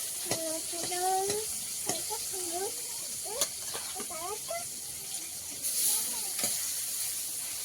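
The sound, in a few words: two fish heads frying in a pan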